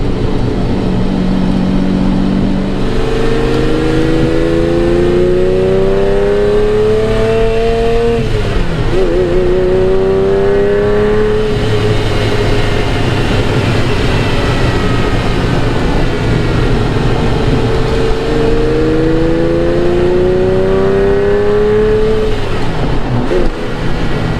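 A Ferrari Testarossa driving, its engine loud and close, rising through the gears in repeated long pulls with pitch climbing, a short drop between shifts and a steady rumble underneath.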